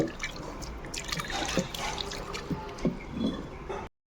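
Tamarind juice is poured into a pot of lentil soup, giving a close, continuous splashing trickle with a few small drips before it cuts off abruptly.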